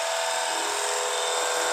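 A car wash pressure washer gun sprays water in a loud, continuous, even hiss with a steady mechanical whine underneath, close by and alone.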